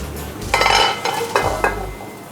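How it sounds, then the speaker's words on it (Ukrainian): Browned, partly stuck carrots are stirred in a pot for Ukrainian pilaf, giving a close burst of metallic scraping and clattering with a few short knocks. "Я останнє перемішую моркву"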